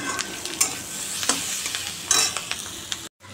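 Bottle gourd and potato curry sizzles in a pan while a spoon scrapes and stirs it in several quick strokes, close and fairly quiet, with no talking.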